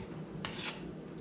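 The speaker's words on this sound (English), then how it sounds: "spoon all of this out" A spoon scrapes smoked chicken sauce out of a container in one short, soft rasping stroke, close and quiet, with no talk.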